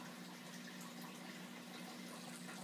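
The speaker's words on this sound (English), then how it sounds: "I can be a little lenient on some of the sucking noise coming out of the pipe" Water gurgles and rushes steadily through the drain pipe of a DIY dual 100-gallon aquarium display tank and filter setup, with a constant low hum underneath.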